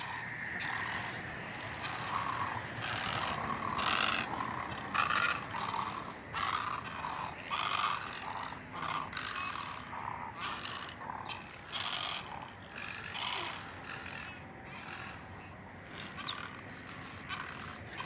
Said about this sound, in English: For such a pretty bird, they make the ugliest noise.